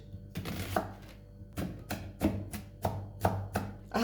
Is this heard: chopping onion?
yes